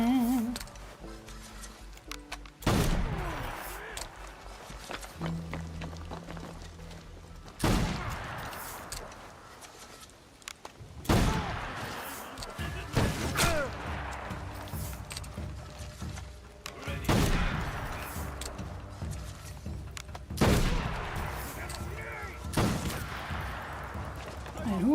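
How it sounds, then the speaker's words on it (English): Teppo matchlock gunfire in Assassin's Creed Shadows, several loud sharp shots spaced across the clip amid combat noise and game music, with a voice talking at times. "Who else is shooting at me?"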